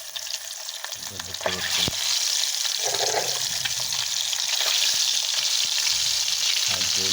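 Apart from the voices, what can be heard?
egg frying on an electric induction stove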